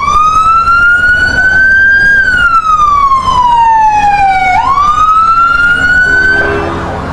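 A siren from a truck in a Christmas parade wails loud and close, its pitch slowly rising, dipping, then sweeping back up over steady street noise.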